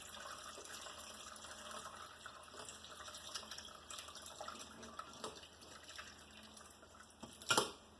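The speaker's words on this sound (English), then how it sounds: "slowly pour that into our strainer" Homemade veggie stock trickles steadily through a mesh strainer lined with a heavy paper towel, a soft continuous pour with light splashing, ending in a brief louder splash; no one speaks.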